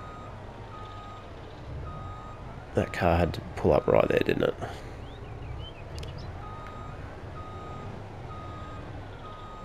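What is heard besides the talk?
truck reversing beeps in video game Farming Simulator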